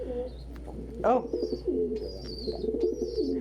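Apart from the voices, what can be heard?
pigeon cooing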